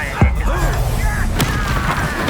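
Incendio fire spell cast in Hogwarts Legacy, a sudden booming burst early on followed by crackling, whooshing flame effects, with another sharp crack later, loud and close as a voice speaks over the combat.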